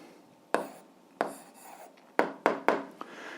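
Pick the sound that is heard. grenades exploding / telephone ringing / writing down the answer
writing down the answer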